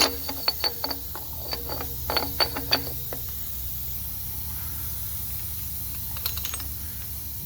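A specialty socket tool works loose the hub nut on a Dana 44 front axle with a burst of quick metallic ratcheting clicks, then quiet, then a few more clicks near the end, close by and moderately loud.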